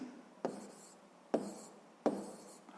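Pen or pencil writing math on paper, three distinct scratchy strokes with quiet pauses between them, close and soft, in a quiet room.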